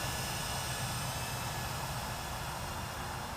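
A GEPRC CineKing 4K FPV drone on a 3S battery hovers at just under half throttle, giving a steady, loud, broadband propeller whine and rush that holds unchanged throughout with no voices.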